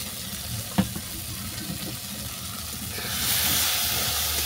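A pot of peas, shrimp and piring flowers simmered under a lid lets out a broad steady hiss of steam that swells louder partway through as the cover comes off, close by, with a small clink near the start.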